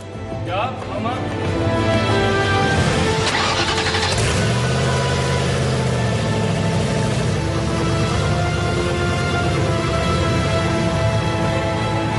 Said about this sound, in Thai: เราเริ่มสตาร์ทเครื่องยนต์เป็นครั้งแรกครับ